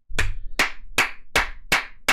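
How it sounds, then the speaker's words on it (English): Six loud, crisp hand claps from a gaming podcast host, close to the microphone and spaced at a slow, steady rhythm, with no talking over them. "Why am I clapping?"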